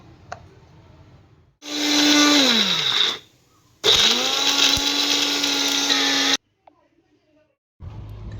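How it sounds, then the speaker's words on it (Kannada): A mixer grinder whirs loudly in two long bursts while grinding dry coconut chutney with salt, with a short pause between them and quiet moments at the start and end. "ಹಾಕಿ ಇದಕ್ಕೆ ಗ್ರೈಂಡ್ ಮಾಡಿಬಿಡೋಣ"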